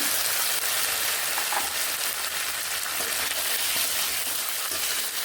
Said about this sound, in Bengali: খুব ভালোভাবে আলুর সঙ্গে এই মশলাগুলোকেও ভেজে নেব